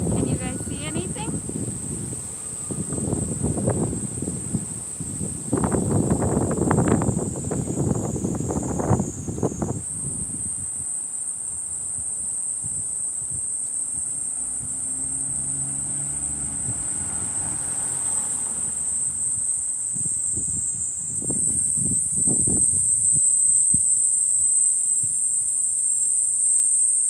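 A loud, continuous high-pitched cicada drone fills a Tokyo park, steady the whole way through, over bursts of low wind rumble on the microphone that come and go.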